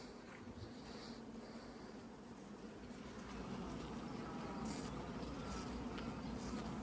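Honeybees swarm in an opened hive checked without smoke, giving off a steady, dense buzzing hum that holds throughout at a low, even level and swells slightly midway.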